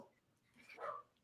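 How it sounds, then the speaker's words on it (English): A dog gives a brief, faint bark or yip indoors, heard once in the background with no talking. "I got dogs barking"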